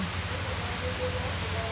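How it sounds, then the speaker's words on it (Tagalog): Early morning rain falling outdoors, a steady, even hiss of drops on surfaces with a low background rumble, continuous and moderately quiet throughout. "Inumaga na yung ulan."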